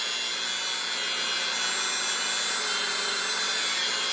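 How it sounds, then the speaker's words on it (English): A buffing wheel spins steadily against a slot car body while polishing product is worked in with light pressure, a constant, loud whirring hiss with an even tone throughout. "I'm still using the flat part of the buff wheel to spread and work in the product"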